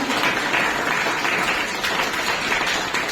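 Church congregation clapping together during a lively worship service, a steady dense wash of many hands filling the room at constant loudness with no voices standing out.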